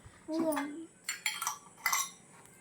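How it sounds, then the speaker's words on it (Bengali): Miniature toy cookware clinks and rattles as a large bowl is picked up: a few bright, close clatters spaced across a couple of seconds, with a brief voice near the start. "প্রথমে তুমি এই বড় পাত্রটা নিয়ে নাও"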